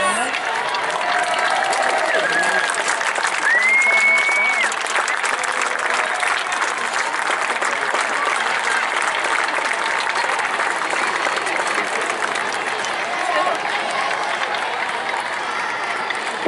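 A long, sustained round of applause from a large crowd at the opening ceremonies of a Region 1 soccer championship, steady and full throughout, with scattered voices and cheers mixed in.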